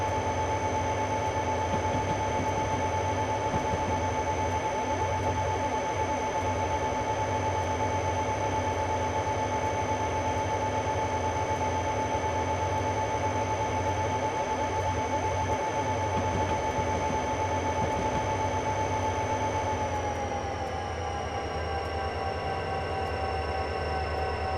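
A freight train in Train Simulator 2020 on the US Soldier Summit route, a continuous drone of locomotive engine and rolling wagons with a steady whine that bends down in pitch near the end.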